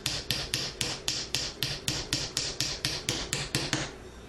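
A small hammer taps a pin into a Rap4 RAM Desert Eagle with about fourteen sharp, evenly spaced metallic strikes in a steady rhythm, close and clear with no talk.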